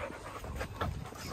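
A shelter dog pants rapidly and close by during a training session, a quick, breathy rhythm that runs through the whole moment with no voices.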